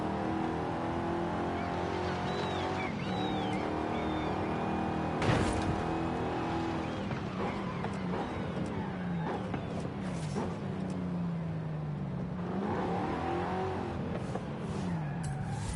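Race car engine in a racing video game, a steady revving drone with gear changes and tire squeals running continuously at a loud, even level, with no one talking.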